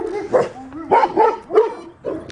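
A healthy, happy farm dog yips, whimpers and gives short excited barks close up, in quick uneven bursts with whiny pitch glides between them, and no talking.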